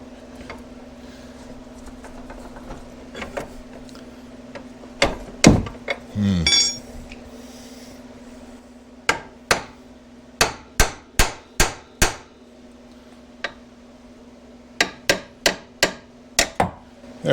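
Hammering while prying against an old axle, sharp metallic strikes in uneven bursts over a steady hum, with a brief scraping clatter early, close and moderately loud.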